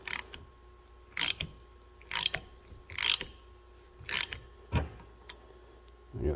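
A hand impact screwdriver with a socket is struck on work held in a vise, giving sharp, separate metallic clanks with ratcheting clicks, about six evenly spaced impacts at close range.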